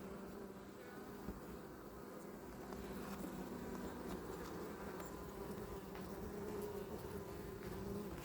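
Honeybees buzz steadily around a beehive during work on a weak colony, a dense continuous drone that is quiet and close with no talk.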